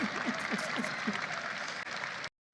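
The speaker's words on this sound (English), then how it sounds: "That's an applause line." Crowd applause at a political speech addressed to the President, a steady wash of clapping that stays loud and even for about two seconds and then cuts off abruptly.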